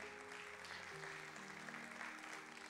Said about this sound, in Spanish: Aplauda, aplauda al Señor.